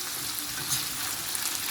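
Breakfast sausages browning in a frying pan give a continuous close sizzle with soft spattering, steady and without talk.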